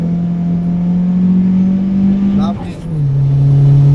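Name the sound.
SR20DET-engined Nissan 200SX engine thump accelerating uphill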